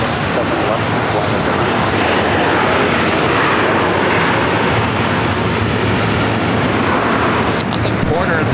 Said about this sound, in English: runway 7 left, clear for takeoff.